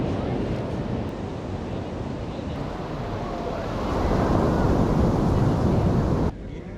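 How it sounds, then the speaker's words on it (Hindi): Ocean surf rolling onto Palolem Beach in Goa, a continuous loud wash of breaking waves with wind buffeting the microphone, swelling louder toward the end before cutting off. "बीच पे बहुत सारे लोग हैं और बहुत ही मस्त बीच है ये"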